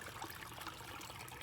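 Creek water trickles and gurgles steadily close by, a continuous dense babble with no pauses or voices.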